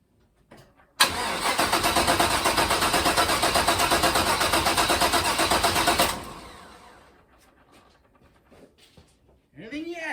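An LS engine cranks loudly on a weak battery in a rapid, labored churning for about five seconds without starting, then stops and fades; a voice speaks briefly at the end.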